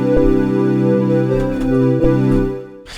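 A wavetable synth patch in a beat, with five unison voices detuned to about 0.8 and a slow attack, holding a rich sustained chord with a few soft percussive ticks before a short noisy burst at the end.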